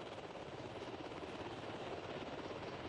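Helicopter flying over southern Israel near Eshkol, carrying wounded soldiers: a steady, dense rotor and engine roar held at an even level throughout, with no voices.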